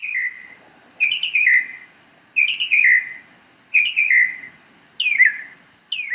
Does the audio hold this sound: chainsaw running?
no